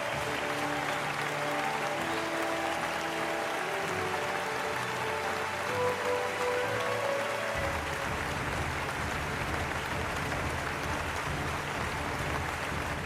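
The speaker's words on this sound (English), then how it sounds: "As best outgoing students, they deserve a good round of applause," An audience at a school annual day celebration in Chennai applauds the best outgoing students, a sustained, even roar of clapping from a large crowd, with a faint tonal sound under it early on that drops away midway.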